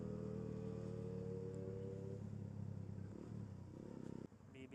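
Raider motorcycle racing toward the finish in Cagayan de Oro: a faint engine note holds steady and then rises in short revving bursts, heard from some distance with no talk.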